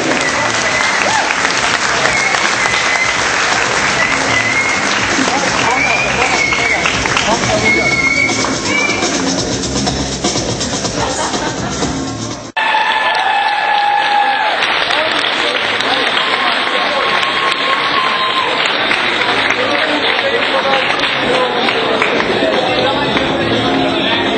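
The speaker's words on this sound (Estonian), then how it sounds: "Siis tuleb siuke aplaus, et peaaegu kukub pikali." Sustained, loud audience applause at an Estonian awards-style event, dense clapping filling the whole stretch with a brief dip midway before surging again, cheering voices mixed into the crowd noise.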